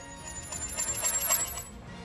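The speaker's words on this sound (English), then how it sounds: "Let's try automating a pitch shifter on this." Short bell-like sample warbling as its pitch is swept and shifted, a metallic ringing tone with wavering, oscillating high overtones, moderately loud.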